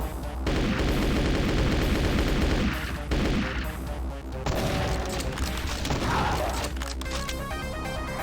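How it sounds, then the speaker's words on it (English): Submachine gun fire in Doom II keeps going almost without a break, loud and dense, with rapid shots mixed with crashing impacts and game effects throughout. "We're gonna use the submachine gun to do it."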